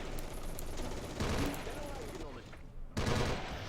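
Machine gun fire in the Close Combat: Cross of Iron war video game, repeated bursts of rattling shots at moderate loudness with a brief lull before a renewed burst.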